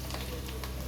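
Eggplant slices fry in a pan with a brief, dense, close sizzle and soft stirring scrapes, with no voices.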